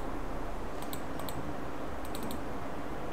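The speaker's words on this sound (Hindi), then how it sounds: "देन कीबोर्ड में आपको इंटर प्रेस करना है।" Computer keyboard keys pressed in a few quick clusters of clicks while working in graphic design software, close and light over a steady background hiss.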